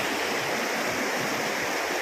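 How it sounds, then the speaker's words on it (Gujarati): Bhesasingh waterfall in Dahod roars in a steady, loud, dense rush of falling water that fills the whole clip with no break. "અહીંયાથી જ પડે છે પાણી"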